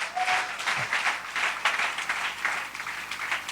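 A church congregation claps and applauds for Jesus Christ in a sustained, moderately loud ovation that swells in waves, with no voices heard over it.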